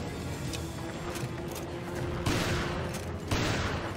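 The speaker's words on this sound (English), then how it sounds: "Oh wait, shotgun!" Shotgun blasts in the survival-horror game Resident Evil Revelations, fired against a shield monster: two sharp booms cut through a dense, steady bed of game noise and music, close and loud.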